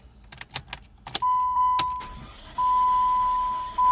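A car engine with a suspected timing belt problem cranks over unusually fast without starting, a steady whirring starter drone in two long bursts after some clicks and clatter, loud and close.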